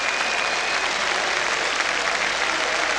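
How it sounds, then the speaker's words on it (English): Warm applause from a football stadium crowd ripples around the ground during a 1983-84 Spurs v Bayern Munich match, a dense, steady wash of clapping held at an even level for a few seconds. "And warm applause around the ground for Ali Dick."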